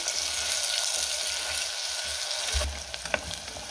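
Onions sizzle steadily in hot oil, a dense crackling hiss throughout, with a few light stirring clinks near the end.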